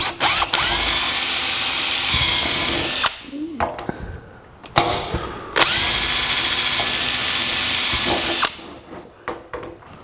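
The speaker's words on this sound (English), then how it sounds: "drill an 1/8 inch hole in each one of these punch marks." An electric drill whines at high speed in two long bursts, drilling 1/8 inch holes in metal, separated by a brief pause with small clatters and handling noises.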